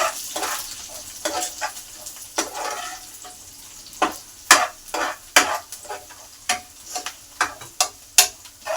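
Fried onions are stirred in a pan, sharp spoon scrapes and clicks landing in an uneven rhythm over a soft background sizzle, close up with no voices.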